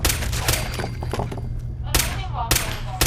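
Gunfire in the video game Fallout 4, sharp loud bursts of shots in quick clusters with a sustained low rumble beneath and game sounds in between.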